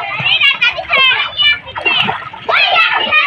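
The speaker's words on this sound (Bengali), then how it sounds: "রিহানে সাঁতার শিখতেছে, ও আবার বোতল ছাড়া সাঁতার কাটতে পারে না" A child learning to swim with a bottle as a float splashes in open water. Several children talk and shout over the splashes throughout.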